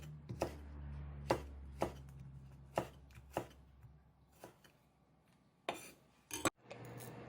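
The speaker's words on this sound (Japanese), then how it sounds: "このお芋を今度は千切りにしていきます。" A kitchen knife julienning sweet potato skins into thin 2–3 mm strips on a board: a series of crisp, separate chops with pauses in between, close and clear, with no talking.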